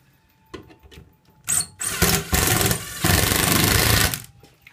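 A power driver tightens a bolt on a bike rack in bursts, its motor whirring loud and close as it starts, stops and then runs in two sustained pulls before winding down.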